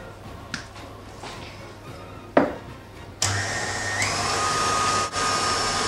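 An electric mixer beating pumpkin sponge cake batter: a few brief taps and a short whir, then the motor starts and runs as a steady close whine to the end.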